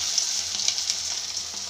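Tikki frying in a pan, giving a continuous close hiss of sizzling oil with a few brief crackles and soft stirring touches, no voices.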